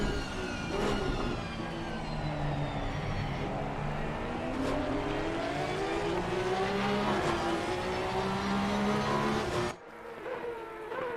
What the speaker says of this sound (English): just listen to the glorious roar of this Porsche